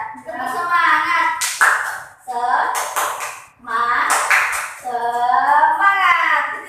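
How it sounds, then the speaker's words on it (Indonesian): A class of children does a rhythmic chanted cheer-clap, bursts of sharp hand claps set between loud group chanting voices. "marilah kita tepuk tangan dulu agar semangat"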